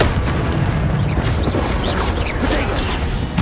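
An Incendio fire spell in Hogwarts Legacy blasts out as a dense, loud, roaring rumble that stays continuous across the whole stretch, with no clear pauses and no talking.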